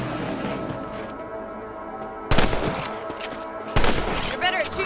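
Loud rifle shots aimed at rabbits in the Red Dead Redemption game, two sharp close reports over a steady ambient background, each followed by a brief ringing tail.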